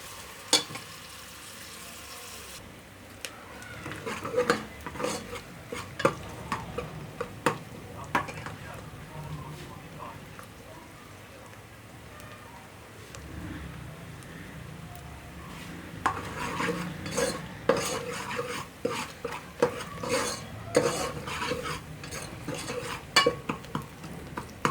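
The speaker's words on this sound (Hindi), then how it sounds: "प्याज को हम ब्राउन करेंगे।" Onions brown in a pan while being stirred, giving a steady low sizzle with repeated scraping and clinks of a spoon against the pan, recorded close in a home kitchen.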